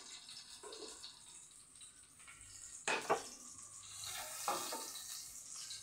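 Chicken fries in a pan with a soft, steady sizzle, broken by a few louder stirring clatters and scrapes; fairly quiet and close, with no talk.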